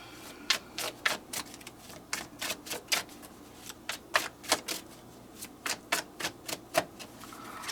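Tarot cards being shuffled by hand in a quiet room: a steady run of crisp, close riffling slaps and flutters in quick irregular bursts, with no voices.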